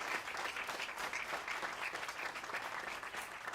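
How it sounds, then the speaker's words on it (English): Applause from an audience at a mayoral event launching a regional workforce initiative, a steady dense patter of clapping heard faintly and at a distance throughout. "Please give our partners a big round of applause."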